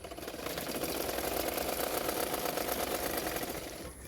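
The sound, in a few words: sewing machine stitching blouse fabric edges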